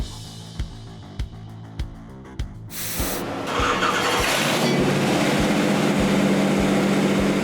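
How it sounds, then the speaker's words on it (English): A Ford 7.3L Godzilla V8 on a dyno: slow starter-like ticks repeat a few times, then the engine catches and settles into a loud, steady, smooth idle rumble that continues to the end. "Godzilla running on the dyno, running great, running very smooth"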